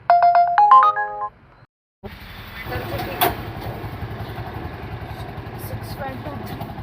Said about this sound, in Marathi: बुकिंग वाजते तर पटकन बुकिंग उचलू आपण